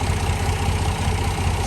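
Tractor engine idling steadily near an M756A2 pipeline truck being broken down, a continuous low rumble with no talk over it.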